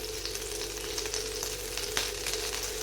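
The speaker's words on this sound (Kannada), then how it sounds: "ಚಿಲ್ಲಿ ಹಾಕ್ತಾಯಿದ್ದೀನಿ. ಚಿಲ್ಲಿ ಚೆನ್ನಾಗಿ ಫ್ರೈ ಆಗಬೇಕು." Chili frying in oil in a pan for a home-style Kannada vegetable dish, giving a steady, dense sizzle at close range with faint crackles and no voices.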